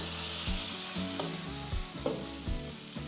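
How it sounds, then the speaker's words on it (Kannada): Mung bean dosa batter sizzles steadily on a hot griddle over a medium gas flame, a loud continuous frying hiss with soft rhythmic scraping or spreading strokes beneath it and no voices. "ಗ್ಯಾಸ್ ಮೇಲೆ ಹಂಚಿಟ್ಕೊಂಡಿದ್ದೀನಿ, ಹಂಚಿಗೆ ಹಾಕ್ತೀನಿ."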